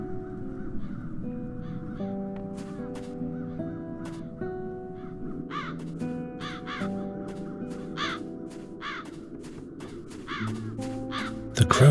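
Crows cawing in the adventure game The Dark Eye: Chains of Satinav, repeated harsh caws, some in quick pairs, growing more frequent over a sustained musical background, no talk.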